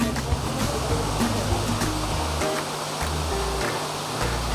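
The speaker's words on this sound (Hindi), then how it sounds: "तो दोस्तों ये झरना आप लोगों को ज़रूर यहाँ खींच के लाएगी।" Steady rushing roar of a waterfall near the Murga Mahadev temple in Odisha, constant broadband water noise heard close and loud, with low rumbling undertones throughout.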